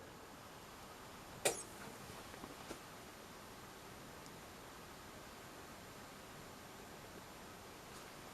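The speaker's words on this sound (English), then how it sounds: "Well, I heard a relay click, and we've got a channel light there." A single sharp click from a relay inside a vintage Sharp DV1600 television set, brief and fairly close, standing out once against a quiet, steady hiss with no one talking.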